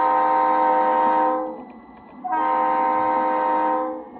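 Video game train horn from a diesel locomotive, likely an RS3 in Rails Unlimited, blows two long, loud chord blasts separated by a brief pause, alone without talk.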